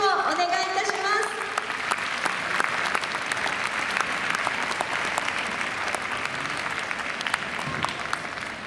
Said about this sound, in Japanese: 会場の皆様、今一度大きな拍手をお願いいたします。